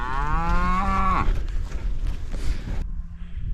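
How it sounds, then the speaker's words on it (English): A single long, close moo from cattle grazing late autumn grass in a field on the North Yorkshire Moors, followed by rustling and faint outdoor noise. "look at all those lovely cattle enjoying late autumn grass"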